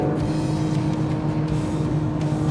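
Acura NSX supercar engine running hard through upshifts, a loud continuous close-up engine roar with brief dips where gears change, filling the whole stretch without talk.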